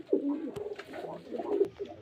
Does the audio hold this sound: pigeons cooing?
yes